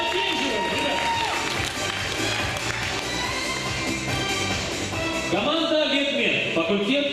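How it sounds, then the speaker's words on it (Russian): Crowd applause and cheering fill the room at a KVN comedy contest final, dense clapping with shouts and music mixed in, steady and loud throughout. "Давайте, аплодисменты, давайте."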